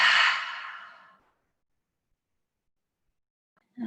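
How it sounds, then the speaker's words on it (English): A deep breath exhaled through the mouth during a yin yoga class, a single loud, breathy sigh that fades over about a second, followed by a long silence and a brief soft sound at the end. "big deep breath in through the nose, exhaling through the mouth"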